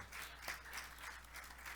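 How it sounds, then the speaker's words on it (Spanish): A church congregation at a Spanish-language service applauds in a quiet, sustained patter of many hands, soft and somewhat distant, with a low hum underneath. "Démosle un aplauso al Señor."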